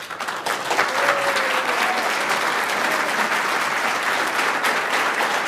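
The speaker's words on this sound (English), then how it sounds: "It sounds like Mayor Rigdon with that clapping" Applause at a regular city council meeting, a sustained round of clapping from the chamber, steady and fairly loud.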